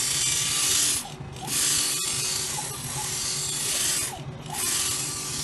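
Motorized polishing pad of a phone screen scratch removal grinding machine moving across a smartphone screen, a steady buzzing mechanical whir that swells and dips as the pad shifts direction, with a single sharp click midway and no talking.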